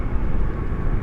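A jet airliner landing at Dallas/Fort Worth airport at night, spoilers up and thrust reversers deployed, gives a loud, steady roar with a deep rumble, heard briefly and alone.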